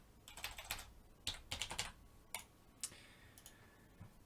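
Fingers typing a folder name on a computer keyboard, quick bursts of close key clicks with short pauses between groups, quiet and alone.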